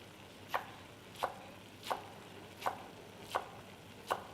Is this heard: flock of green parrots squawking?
no